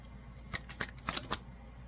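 A deck of cards is shuffled near the microphone, giving four or five quick crisp riffles in a short, quiet burst.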